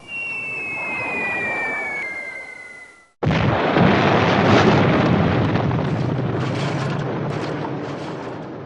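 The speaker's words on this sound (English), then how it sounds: "The B-17s drop their bombs." Bombs exploding in the B-17 Flying Fortress Leader game: a falling whistle gives way to a sudden loud blast, followed by a long rumbling roar of explosions that slowly fades, with no talk.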